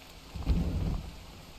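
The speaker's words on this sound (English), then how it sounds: "The rain at the, like, the literal worst time" Rain and thunder in a video game: a short low thunder rumble swells and fades over a soft, steady wash of rainfall, with no talking.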